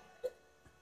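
A single short hiccup sounds near and fairly quiet, followed by a faint second catch of breath.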